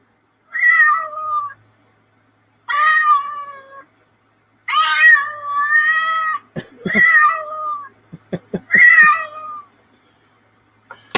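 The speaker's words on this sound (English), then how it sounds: "I'm having way too much fun with these cat sounds." Cat meows come in a series of five drawn-out, plaintive cries separated by short pauses, loud and close, with several sharp clicks and knocks between the later calls.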